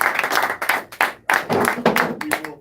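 Audience applause with hands clapping in loud, irregular bursts that swell and fade over a couple of seconds, close and lively with no talking over it.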